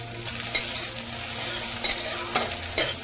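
Eggs fry in mustard oil in a pan, giving a continuous crackling sizzle with a few short taps of a utensil against the pan, close and clear without any voices.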